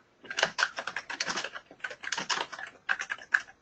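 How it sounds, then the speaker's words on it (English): Someone types on a computer keyboard over an open mic during a webinar, with quick, close, clicky keystrokes in bursts separated by brief pauses. "whoever is typing, if you could please mute your mic so that it's not something that the rest of the room is hearing"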